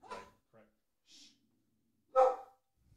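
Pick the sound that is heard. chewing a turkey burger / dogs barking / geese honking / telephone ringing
dogs barking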